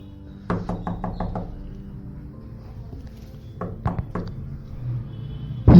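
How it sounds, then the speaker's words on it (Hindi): Hard knocking and banging on a door at night, a rapid burst of five loud knocks followed by a pause and then three more heavy thuds, close and sharp, with no talk. "ऐसा धक्का मारा जा रहा था जैसे दरवाजा अब टूटने वाला है।"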